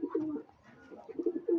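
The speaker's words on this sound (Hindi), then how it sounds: "इधर हमारे जंगली कबूतर आए हुए हैं" Wild pigeons coo nearby in soft, throaty rolling calls, two short bursts separated by a brief lull, with no talk over them.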